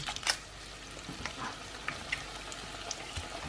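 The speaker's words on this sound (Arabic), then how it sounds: "يلا هلا اذا حنحطها بالزيت الحامي" Shrimp pakora balls being lowered into hot oil one after another, giving a faint, soft frying sizzle with small scattered pops and a light clink at the start.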